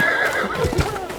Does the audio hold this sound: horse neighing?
yes